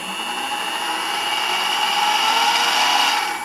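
A small benchtop mini mill's spindle runs at speed, giving a steady, close whine with a high tonal edge that holds level throughout, alone without talk.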